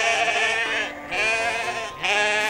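Sheep bleat in a children's animated village story, several long wavering cries in a row, close and clear with no talk over them.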